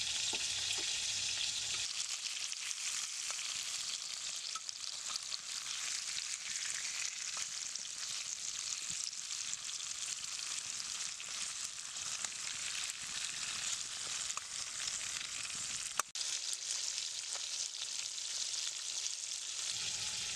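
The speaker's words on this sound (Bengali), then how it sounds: "আমার এক পিট মাছ ভাজা হয়ে গেছে মাছটা আমি একটু উল্টিয়ে দিচ্ছি" Katla fish pieces fry in oil with a constant dense sizzle, close and steady throughout, broken near the end by a brief sharp knock as a piece is turned over; no voices.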